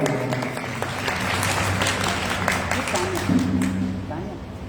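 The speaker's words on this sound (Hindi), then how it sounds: "जोरदार तालियां" An audience at an evening satsang breaks into sustained, dense applause, a steady wash of many hands clapping that holds at an even level throughout, with faint voices and a brief tonal sound mixed in.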